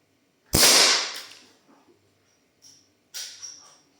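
A Smith & Wesson M29 CO2 air revolver in 4.5 mm gives a sharp, loud report with a quick decaying hiss, then a faint click, and a second softer pop followed by a short hiss.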